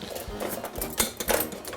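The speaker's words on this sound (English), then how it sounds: "Now I always take a wire whisk to do my mixing of my dry ingredients." Wire whisk mixing dry ingredients, including sugar, in a bowl: quick rapid scraping and ticking strokes, close up, over a short burst.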